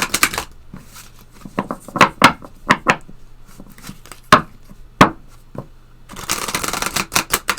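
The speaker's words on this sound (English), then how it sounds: "we're going to close with a couple Wisdom from the Hidden Realms cards" Oracle cards from the Wisdom from the Hidden Realms deck being shuffled by hand, a run of crisp riffling bursts and flicks, close and fairly loud, with a denser flurry toward the end and no talking.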